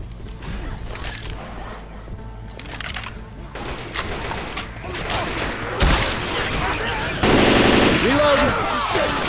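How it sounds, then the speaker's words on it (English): Rapid bursts of automatic gunfire in the zombie shooter Left 4 Dead 2 crackle continuously and grow louder toward the end, with players talking over the shooting. "Stop shooting"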